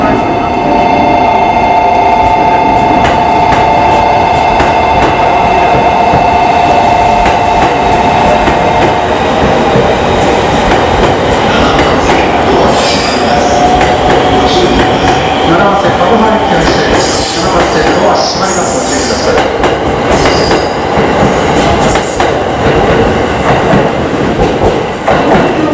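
A train pulls into a platform at Tokyo Station, its steady rumble and rail clatter continuous and loud throughout, with station announcements and chimes layered over the platform noise.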